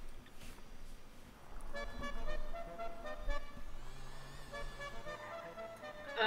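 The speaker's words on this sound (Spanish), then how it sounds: "si esa mantengo el claxon, va sonando todo el rato" Car horn held down in GTA V, a sustained tonal honk that starts partway through and holds steady over engine and street noise, moderately loud without talk.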